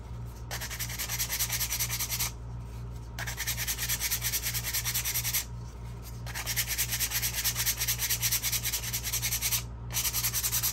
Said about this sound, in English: I take a piece of sandpaper like this. I fold it up, and I'm just going to sand a little bit of the edges